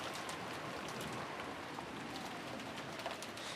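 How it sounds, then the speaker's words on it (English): Steady rain mixed with wind in a video game scene, a dense continuous hiss with faint bird-like calls scattered through it. "The unsettling sound of the wind had now blended in with the sound of rain"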